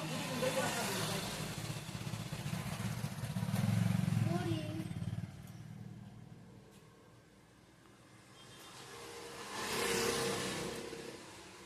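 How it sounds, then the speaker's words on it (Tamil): Motorcycles and cars pass along a main road outside a tailoring shop, engines swelling and fading as they go by, heard under nearby talk. "கடை வந்து மெயினில் இருக்கிறதுனால ரொம்ப வண்டி போகிற சவுண்டெல்லாம் வரும்"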